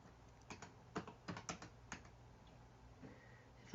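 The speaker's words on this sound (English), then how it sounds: "If I could type right" Quiet clicking of keys on a computer keyboard, an irregular burst of taps in a cluster with short pauses, faint and close.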